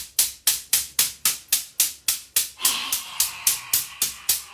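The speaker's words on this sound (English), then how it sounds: "When you do that breath, you want that dragon breath, because you want the stale air" Deep forceful dragon breaths in a morning qi gong practice, about fourteen rapid rhythmic exhalations, each a sharp rushing huff that fades quickly, close and clear with no talking.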